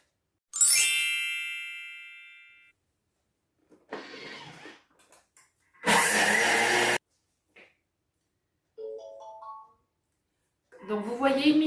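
A Thermomix food processor gives a chime, runs a short loud whirring burst, then sounds a quick series of rising electronic beeps, with a voice talking between the sounds.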